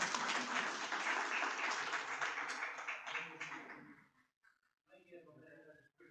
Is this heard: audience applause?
yes